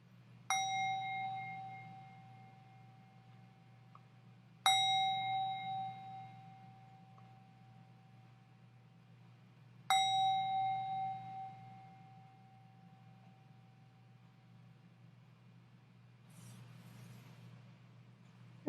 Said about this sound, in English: Let's begin our service this morning with the bells.